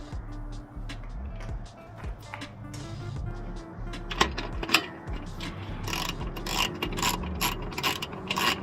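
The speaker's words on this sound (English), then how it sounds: "let's go ahead and tighten the bolt and we'll open it up" A ratchet wrench tightens a 12 mm bolt on a camper van awning, making a long run of quick, close metallic clicks that grow denser and louder toward the end, with no talking.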